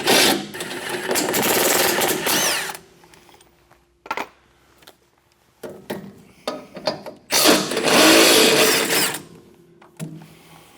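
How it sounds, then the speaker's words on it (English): Power tool backing out the motor bolts on a MUSKOX snowblower during fan motor replacement, two loud sustained whirring bursts with quieter clicks and clatter between them, no talking. "Now I'm going to back these bolts out and the motor will come out."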